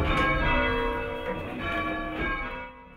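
Church tower bells are rung by a team of bell ringers, with several overlapping bell strikes and long ringing tones that swell and fade in an uneven sequence.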